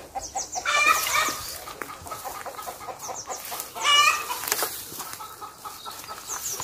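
Chickens clucking in a garden with olive trees, repeated short bursts of clucks with two louder flurries, mid-distance, over faint outdoor background.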